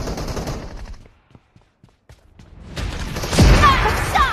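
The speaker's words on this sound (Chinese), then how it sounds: "前方枪声似乎挺热闹的" Gunfire in the battle-royale video game PUBG. Loud, dense bursts of shots sound at the start, then fall to near silence with a few faint reports, before a heavy, close volley of rapid fire.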